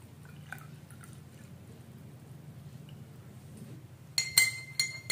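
A quiet low hum fades into a burst of sharp clinks as a spoon stirs baking soda into hot water in a glass cup, the tapping repeating unevenly near the end.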